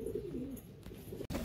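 A pigeon coos softly in low, warbling notes, close by, with a faint background hiss.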